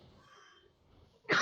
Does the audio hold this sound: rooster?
no